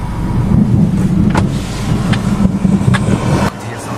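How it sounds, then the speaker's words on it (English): Thunder rumbles low and loud during a Florida thunderstorm, rolling in the distance under heavy wind noise on the microphone, with a few sharper cracks. "Here's some thunder coming from that road"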